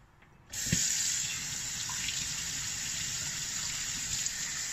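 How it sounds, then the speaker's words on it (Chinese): Tap water runs steadily over salted jellyfish being rinsed in a sink, starting abruptly after a brief quiet moment and continuing as a close, even gushing stream. "先用清水清洗一下，洗掉上面的盐渍。"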